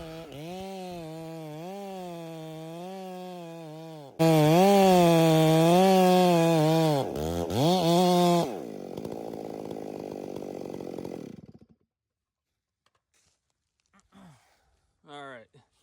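A gas chainsaw bore-cuts into a hard maple tree, its engine revving up and down in loud, wavering surges with a brief dip mid-cut, then dropping to a steady idle before cutting off into near quiet with faint knocks.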